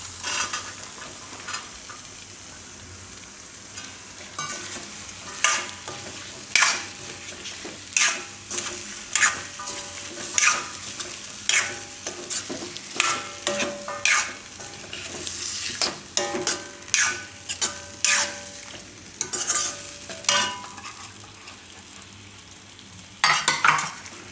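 Garlic carrots with fresh coriander being stirred in a frying pan, a light sizzle under a long series of regular scraping and clinking utensil strokes.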